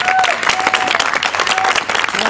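An audience applauds after a dance performance, a dense and steady wash of clapping that fills the whole moment at close range.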